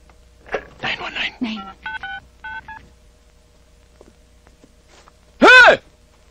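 Telephone keypad dialing 911 to call police, three quick touch-tone beeps after a burst of talk and rustling, then a short pause before a loud voice cry.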